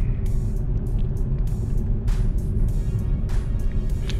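A BMW 523i Touring pulls up a steep hill of about 12 percent, heard from inside as a steady, quiet engine hum and low road rumble with faint intermittent ticking over the top.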